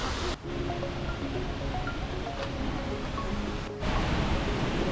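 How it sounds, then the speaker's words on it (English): Seljalandsfoss in Iceland plunges 60 meters off a cliff, a steady, even roar of falling water that continues without a break, with faint tonal sounds drifting above it. "Plunging 60 meters off a cliff, it's one of the few waterfalls you can actually walk behind."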